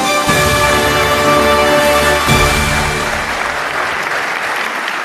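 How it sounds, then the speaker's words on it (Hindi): A studio audience bursts into loud, sustained applause that swells, dips briefly and continues, dense clapping from many hands with no one speaking. "जोरदार तालियां।"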